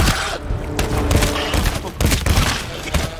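Gunfire in the co-op video game GTFO, a rapid run of loud, close shots and thuds filling the few seconds with no talk over it.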